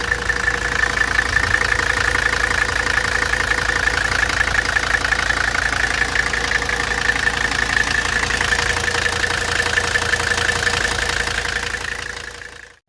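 A Mercedes 300TD W123 wagon's OM617 diesel engine idles steadily and loudly up close, a constant rattly diesel clatter with an even knocking rhythm that continues unbroken until it cuts off at the end.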